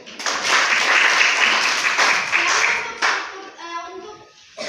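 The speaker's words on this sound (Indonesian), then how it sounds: "Baik, tepuk tangan dulu untuk Ruth." Classroom applause as students clap their hands together for a classmate, a dense burst of many hands that fades after about three seconds, with children's voices talking briefly at the end.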